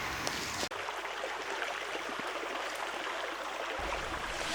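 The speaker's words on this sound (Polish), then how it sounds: "Strumienie, potoki, rzeki. Po prostu woda." A forest stream in the Komańcza woods flows with a steady, close rushing hiss of water that runs without a break and without any voices.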